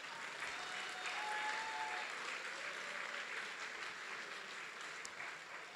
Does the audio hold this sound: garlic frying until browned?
no